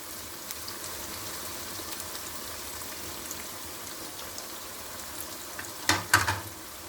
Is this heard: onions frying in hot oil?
yes